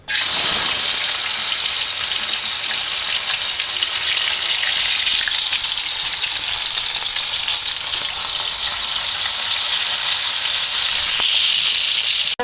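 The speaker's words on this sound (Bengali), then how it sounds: "এখন রান্না করে নেব শুটকিটাকে। এখন আমি ভেজে নেব।" Dried fish (shutki) frying in a pan, a loud, close, continuous hiss and sizzle of hot oil that holds steady throughout with a few brief crackles.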